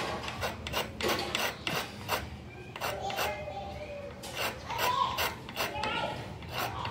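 Rhythmic rasping strokes of a file sharpening a metal drill bit, repeated steadily back and forth, fairly close with some background noise.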